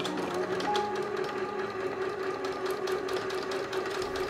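A sewing machine runs steadily through an automatic buttonhole stitch on fabric under the buttonhole foot, a continuous close mechanical whir with a rapid needle rhythm throughout.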